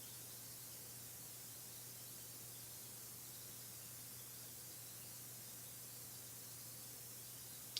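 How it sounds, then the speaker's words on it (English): Color Shine spray ink misted from a pump bottle onto a paper background, a faint, steady hiss that runs without break, no voices. "Next I'm adding some color splatters, and I'm using the Color Shine spray inks by Heidi Swap."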